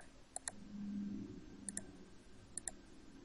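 Keyboard keys pressed in quick pairs, Escape then S, while drafting in CAD software: three sharp double clicks spaced a second or so apart, fairly close and crisp over a low room hum.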